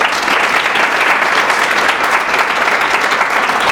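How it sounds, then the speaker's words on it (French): An audience applauds a photographer, founder of a photography business, at a women's entrepreneurship event; steady, dense clapping fills the room throughout, fairly loud and unbroken, with no voices over it. "Là, on peut l'applaudir aussi."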